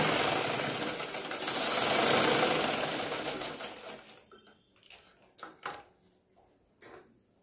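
Sewing machine stitching a sari blouse, running in a loud continuous burst for about four seconds, then several short, quieter bursts of stitching separated by pauses.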